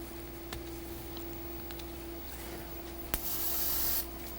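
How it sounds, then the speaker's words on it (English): An aerosol spray can hisses onto a sheet of paper in a quiet room, a single close burst lasting about a second near the end, after faint ticks and rubbing. "So we're going to spray our piece of paper and not the bezel."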